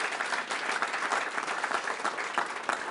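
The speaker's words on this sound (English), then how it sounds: "One never likes to assume there'll be an applause there" An audience at a talk on Transcendental Meditation breaks into steady, fairly close applause, dense clapping that holds for a few seconds without pause.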